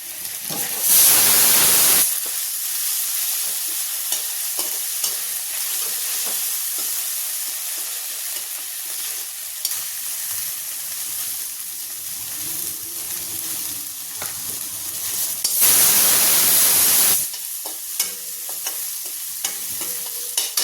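Ginger, garlic and green chilli paste fries in oil with a continuous soft sizzle, broken by two louder, hissing bursts of steam at the start and near the end, close up with stirring and no talk.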